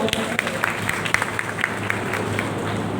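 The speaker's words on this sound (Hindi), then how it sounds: "एक बार इस बहन के लिए तालियां बजा दो।" Applause from an audience at a career counseling program in Kota, India, a steady patter of many hands clapping with a few sharper claps standing out, sustained throughout.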